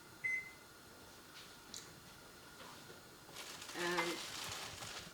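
A few short electronic beeps from a kitchen timer being set for 8 minutes while eggs boil, fairly faint, followed by a soft sizzling hiss in the background.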